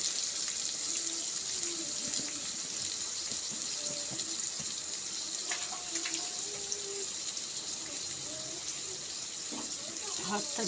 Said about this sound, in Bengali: হাতটা ধুয়ে এলাম।